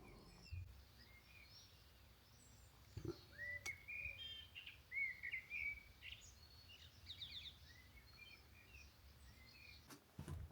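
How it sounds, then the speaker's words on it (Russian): Birds sing outside a house in Italy: faint, distant chirps and short trills come in scattered bursts over a quiet background, busiest in the middle of the stretch. "Одно успокаивает, птички поют."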